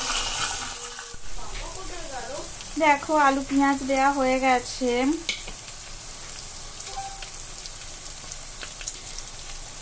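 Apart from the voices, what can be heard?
fish head frying in a pan with potato and onion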